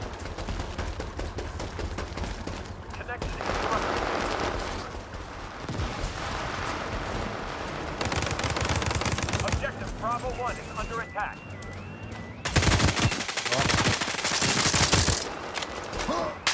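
Dense gunfire in the World War 3 first-person shooter, rapid bursts and single shots crackling loudly throughout over game ambience, with a player talking over the shooting.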